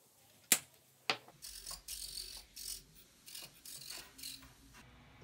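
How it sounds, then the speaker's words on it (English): Servo wire on an RC Savage Bobber plane being cut to length, heard as two sharp close snips followed by softer clicking and rustling handling sounds. "then we'll cut that wire to length"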